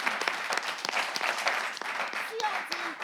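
A crowd applauds steadily at a live show, a dense wash of clapping with a few sharper individual claps standing out, moderately loud throughout.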